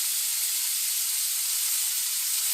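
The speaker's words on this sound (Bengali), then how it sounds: "কাজুগুলো একটু ফাটিয়ে দিচ্ছি।" Cashews hissing and sizzling steadily in hot oil in a pan with raisins, a constant bright fizz with no talking.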